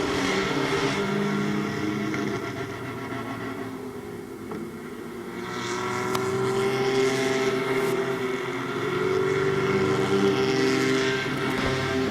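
Race cars circling the final lap at Midvale Speedway, a continuous engine drone that swells and fades as the cars move around the track, heard at a distance without talk.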